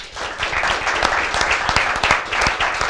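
An outdoor crowd at a cross-country mountain bike race in Italy applauds steadily, dense clapping filling the whole stretch at a fairly loud level, with no voices standing out above it.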